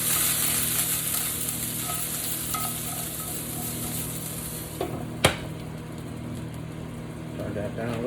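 Green beans cooking in a pan give a steady background sizzle, with a sharp clatter partway through and a person talking nearby.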